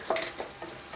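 Diced potatoes and tomatoes frying in a pan for sambar, a close, continuous sizzle with brief stirring scrapes and no talking.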